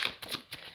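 Tarot cards shuffle and slide in a few quick, soft riffling bursts, close by and moderately quiet, with no voice over them.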